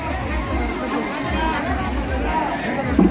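Crowd chatter fills the grounds of the Shirdi temple, a dense, continuous babble of many overlapping voices at close to middle distance that keeps a steady level throughout.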